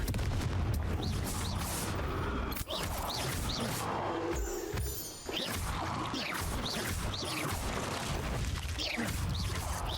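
Confringo blasting spell explosions in Hogwarts Legacy, a dense, continuous barrage of loud crashing impacts and bursts layered over busy combat noise, with a few sharper hits standing out.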